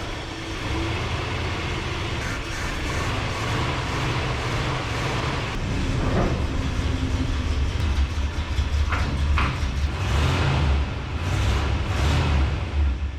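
A Ford F250 crew cab truck rolls into a shop, a steady low rumble with clanks and knocks from the vehicle and workspace throughout, fairly loud and close.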